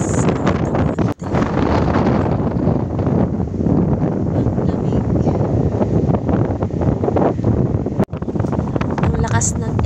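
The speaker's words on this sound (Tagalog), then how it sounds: "napakalakas po ng hangin dito sa Altamonte" Strong midday wind sweeps a hillside construction site at Alta Monte in Pililla, Rizal, buffeting the microphone in a continuous loud roar with two brief drops.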